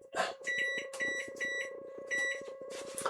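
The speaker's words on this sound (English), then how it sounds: "put a 2-minute timer on it" An electronic kitchen timer being set for a pot noodle emits a quick series of short high beeps at close range, several clustered chirps over a faint background hum.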